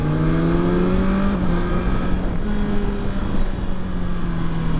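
A 2020 BMW S1000XR motorcycle downshifts with a clunky auto-blipper, engine pitch stepping down under loud steady wind rush.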